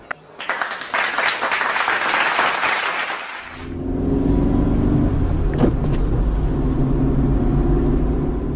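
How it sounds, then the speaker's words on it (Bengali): A cartoon car speeds along in a horror animation, its engine a steady, loud low rumble that takes over after a few seconds of dense, noisy hiss. "এত জোরে গাড়ি চালাচ্ছিস কেন?"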